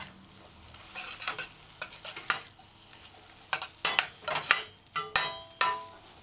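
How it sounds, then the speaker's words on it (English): A spoon stirs kidney bean stew in a pot, giving a series of irregular scraping and clinking strokes with a soft sizzle underneath, close and fairly quiet, with no talking. "Stir your pot in, flip the bottom to the top."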